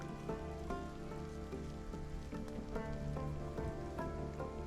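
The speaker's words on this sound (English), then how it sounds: "nice little bit of alien mineral rain into the mix of food" Steady rain pattering on surfaces in the survival game Stranded Alien Dawn, continuous and soft under a droning musical backdrop, with no talking.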